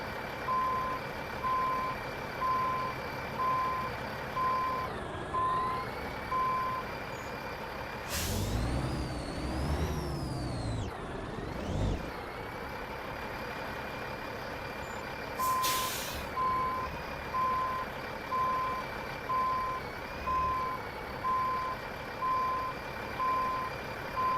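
A truck in American Truck Simulator maneuvers slowly, its steady electronic reversing beeps pulsing over a low idling engine, broken by two loud hissing air brake releases, with no voices.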